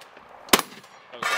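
A shotgun fires on an outdoor combat shooting course, one loud close blast followed by a second noisy burst a moment later.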